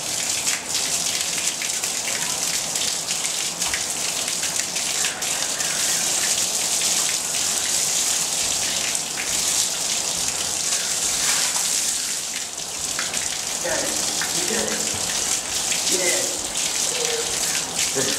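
Continuous rushing, splashing water fills the scene, loud and close, with faint voices occasionally breaking through.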